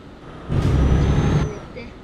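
An Iveco truck's engine and air brakes in Euro Truck Simulator 2 give a loud, close, one-second burst of hissing rumble that swells and then fades back to a low idle.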